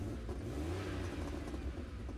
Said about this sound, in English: That engine does not sound good